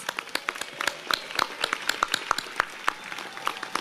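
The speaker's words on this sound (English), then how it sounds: "Please give him a round of applause." A crowd applauds steadily for a few seconds at an induction ceremony, many hands clapping in a dense, even patter.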